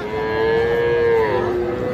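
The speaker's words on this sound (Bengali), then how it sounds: "একটা ষাঁড় বাছুর ফ্রিজিয়ান জাতের" A Friesian bull calf gives one long, close, loud moo that holds steady and then drops slightly in pitch near the end.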